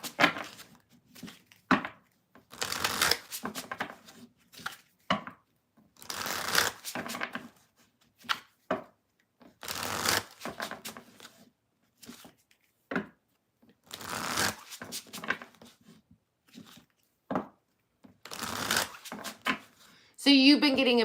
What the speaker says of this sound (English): I'm going to shuffle, read the chat